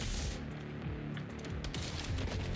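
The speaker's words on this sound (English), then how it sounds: "So it's the gunners shooting the grenades." Gunfire and grenade launches fill a video game boss fight against the Commissioner, with enemy gunners joining in. Dense overlapping shots and dull booms come in a continuous, fairly quiet barrage.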